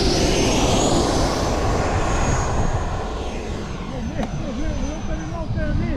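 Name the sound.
Eflite Viper 90 RC model jet flying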